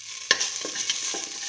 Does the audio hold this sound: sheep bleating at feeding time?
no